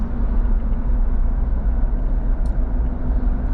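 A car driving across the Brooklyn Bridge toward Manhattan, heard from inside as a steady, loud low road rumble and engine drone with no talking.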